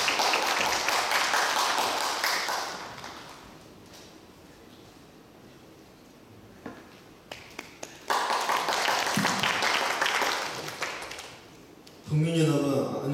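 Audience applause for a student candidate taking the stage at a mock presidential election for a university student assembly, clapping bursts rising around a host's announcements amid hall chatter and voices.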